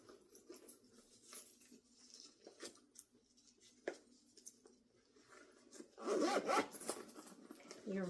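A zipper being worked on the pocket of a newly sewn Zoe Satchel bag, with quiet rubs and handling noises, then a louder, close zipping burst near the end.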